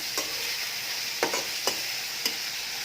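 Dried fish (shutki) frying with onions in a pan gives a continuous soft sizzle, broken by four or five quick scraping stirs from a spatula.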